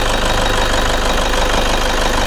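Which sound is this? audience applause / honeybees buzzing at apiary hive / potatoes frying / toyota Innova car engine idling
toyota Innova car engine idling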